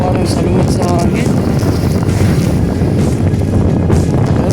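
Headwind buffeting a cyclist on a highway bike ride produces a loud, constant low roar against the microphone, with a voice partly buried beneath it.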